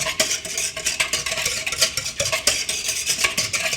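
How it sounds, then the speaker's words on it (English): Yeast mixture for Amish white bread being whisked in a bowl, a close, rapid rhythmic clatter and swish of whisk strokes continuing throughout without talk. "Whisk that up a little bit too."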